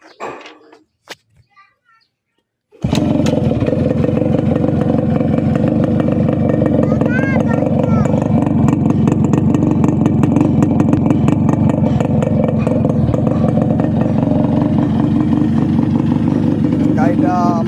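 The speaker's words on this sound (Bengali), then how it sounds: "এই যে সাইলেন্সারের পাশে সাউন্ডটা দেখাবো, দেখেন।" A Yamaha RX 100 motorcycle exhaust close beside the silencer, starting after about three seconds of near quiet and then running as a loud, steady two-stroke drone with a rough pulsing rumble throughout.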